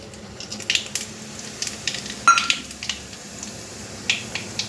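Fenugreek, mustard and cumin seeds crackling in hot oil, a soft steady sizzle dotted with sharp little pops and spits, close and fairly quiet.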